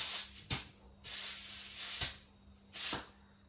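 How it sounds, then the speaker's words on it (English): A spray gun on a connected air line lays down primer, a 1mm-tip gun, in three bursts of steady broadband hiss, each starting abruptly, with a short pop at each trigger pull and a faint low hum in between. "the primer is getting sprayed here"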